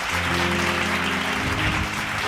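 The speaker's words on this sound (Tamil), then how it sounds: "நல்லா கைதட்டுங்க." A church congregation claps together in a dense, loud burst of applause, with a low hum of music or voices beneath it.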